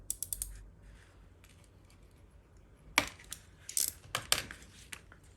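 A piece of balsa wood being cut, brief crisp cracks and clicks, a short burst at the start and then a louder cluster of snapping cuts near the end, close and otherwise quiet.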